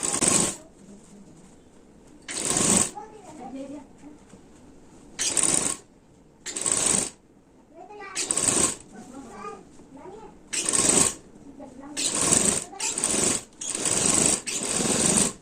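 Sewing machine stitching the crotch gusset (miyani) of a salwar, running in several short, loud bursts separated by pauses, with someone talking softly between the runs.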